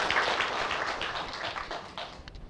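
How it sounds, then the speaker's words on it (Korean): Applause at a Korean grant foundation presentation, fairly quiet and steady for a couple of seconds, then thinning out toward the end. "우리 재단 상임위원장님께 저는 박수 한번 드리고 싶습니다"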